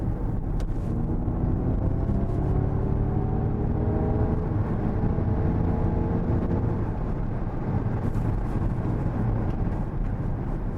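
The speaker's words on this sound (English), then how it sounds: "You get a whir from the electric motor, and you get some more wind noise." Ford Mustang Mach-E GT accelerating from inside the cabin: a loud, constant broadband rush of wind and road noise with a faint rising electric motor whir underneath, no talking.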